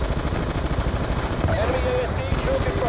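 Light machine gun fire in the Black Ops II campaign: loud, dense bursts of rapid gunshots layered with battle noise and explosions, continuous throughout, with game voices mixed in.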